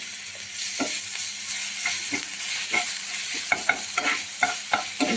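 Grated garlic hits a small amount of hot oil in a frying pan, giving a steady, close sizzle broken by light clicks and scrapes as it is stirred.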